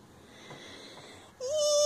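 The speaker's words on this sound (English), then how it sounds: "Yawn." A baby gives a drawn-out yawn after waking from a nap, a soft breathy sound rising into a brief high, squeaky vocal tone near the end, close and quiet.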